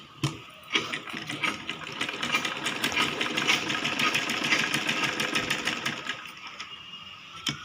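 A sewing machine stitching a child's lehenga choli, running in a continuous fast mechanical whirr with rapid ticking, starting after a brief pause and stopping near the end, close and steady.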